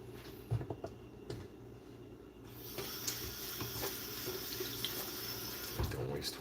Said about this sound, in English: I should wash my hands.